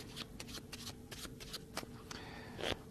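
A deck of playing cards is shuffled by hand using a G.W. Hunter shuffle with an added lift element, making a quiet run of quick, papery flicks and snaps, close and alone.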